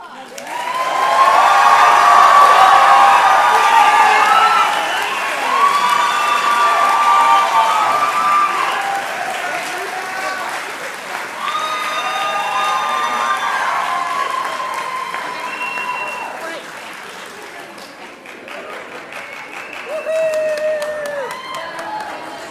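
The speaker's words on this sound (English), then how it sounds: "Let's give them one more round of applause." Applause and cheering from a crowd at a nursing pinning ceremony, loud clapping with shouts and whoops that swell early and ebb over twenty seconds, with voices calling out through it.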